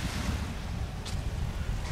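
Steady wash of surf on a beach at a Maldives resort in the Baa Atoll, a constant broadband rush with wind buffeting the microphone and no clear individual wave breaks.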